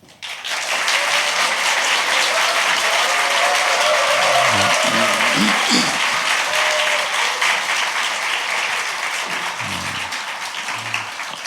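A church congregation at a thanksgiving worship service claps to welcome a pastor to the pulpit. The loud, full applause swells quickly, holds steady, then thins slightly toward the end with faint murmuring beneath.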